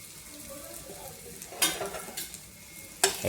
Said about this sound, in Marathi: एकदा परतून घेतो